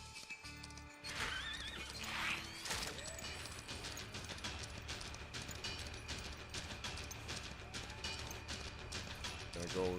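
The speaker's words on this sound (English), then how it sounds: "Back on the horsey." A horse in the western video game Far Far West whinnies, then its hooves clip-clop steadily at a gallop, with game music and ambience running underneath throughout.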